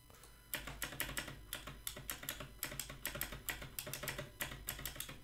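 Fast, steady clattering of keys on a computer keyboard during a game of Sybil, close and loud, with quick bursts of keystrokes and no voices.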